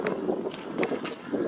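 Gusty wind buffets a microphone while someone walks along an outdoor pathway, a steady low rumble with soft irregular thumps of movement and no one talking.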